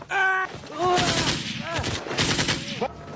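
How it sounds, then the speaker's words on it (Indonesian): Soldiers fire guns blindly in rapid, chaotic bursts of loud automatic gunfire that overlap with shouting voices. "pasukan panik dan menembak secara membabi buta"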